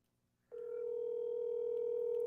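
An incoming telephone call signal starts abruptly after a short silence and holds as a steady, clear electronic tone, close and alone.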